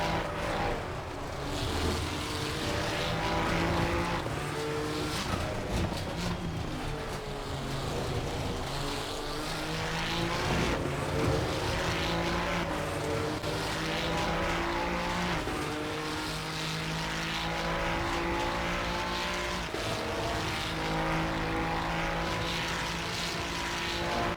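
Ferrari 296 GT3 race car engine in Assetto Corsa Competizione at Kyalami, roaring loud and continuous through a lap as revs rise and fall through the gear changes.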